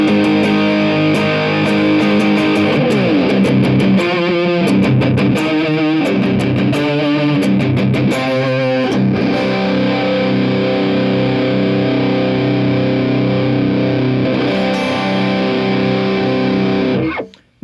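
Harley Benton Jim Root electric guitar played loud through a distorted amplifier with no noise gate, a sustained riffing passage with chugging palm-muted bursts, ringing chords and a sudden cutoff at the end.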